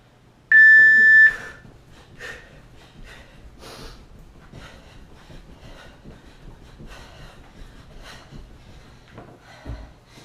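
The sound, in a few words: workout timer beep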